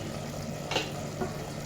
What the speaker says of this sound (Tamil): பாருங்கள், நல்லா கொதி வருது